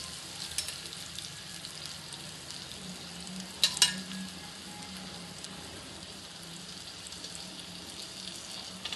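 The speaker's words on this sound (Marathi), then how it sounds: "मोठा पापलेट आहे, आता पलटी मारते त्याला." A large pomfret fries in a pan with a soft, steady sizzle at low level, broken by a brief clatter as it is turned over midway.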